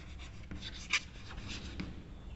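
Chalk scraping across a classroom board while a sentence is written, soft strokes with a few louder taps, close and alone.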